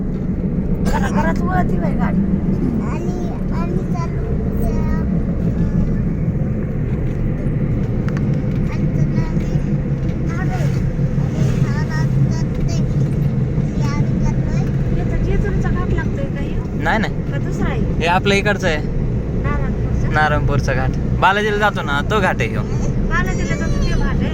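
A car drives and turns on a road, with a steady engine and road rumble running throughout and people talking over it.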